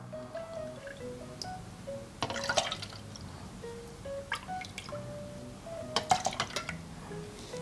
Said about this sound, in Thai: วิธีการกรอกก็เทใส่ลงไปเลยครับ